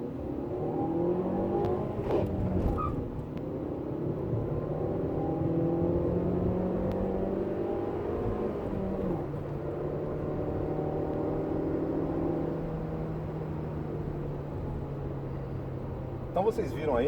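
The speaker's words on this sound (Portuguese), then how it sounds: "uma aceleração boa, um carro realmente responde bem" A 2018 GM Onix LT car accelerates, its engine droning and climbing in pitch through the gears with audible shifts, heard steadily from inside the cabin.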